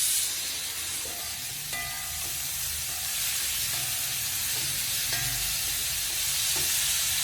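Onions sizzle and crackle steadily in hot oil for a Kerala horse gram (muthira) thoran, with occasional stirring scrapes in the pan and no talking.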